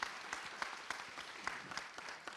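A conference audience claps for panel members at a plenary session, a short burst of scattered, moderately distant hand claps that thins out toward the end.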